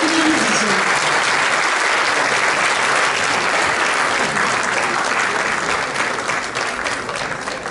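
Steady, dense applause from a concert audience welcoming a Turkish classical music ensemble to the stage in Ankara, sustained and loud throughout, tapering slightly at the end.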